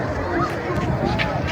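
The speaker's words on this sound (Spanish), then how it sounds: "gente huyendo, gritando, empujándose" A crowd flees and shouts during a street protest in Bolivia, a continuous dense babble of many voices with scattered yells.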